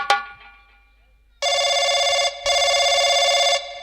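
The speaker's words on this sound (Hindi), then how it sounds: "घंटी जाती है।" An old-style telephone bell rings loudly and close by in two long electric bursts with a short gap between them. A brief sharp knock comes before the ringing.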